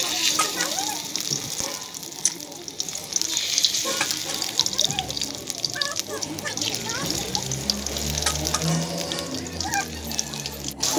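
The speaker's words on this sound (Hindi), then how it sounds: "तेल को गरम होने देते हैं। एक एक करके बैगन डाल देंगे।" Eggplant pieces frying in hot oil in a home kitchen make a steady, fairly loud sizzle and crackle that runs the whole time, with occasional clatter and bursts.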